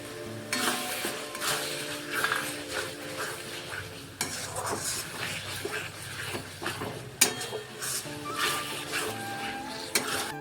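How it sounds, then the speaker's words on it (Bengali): Chopped tomatoes go into a pan of frying spice masala for Bengali chicken kosha, giving a soft sizzle with scraping stirs and light clinks of utensil against the pan, fairly quiet and close. "এবার টমেটোগুলো, কেটে রাখা টমেটোগুলো দিয়ে দিচ্ছি।"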